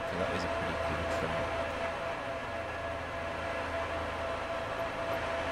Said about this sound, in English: hopefully you can hear me over the noise of this train.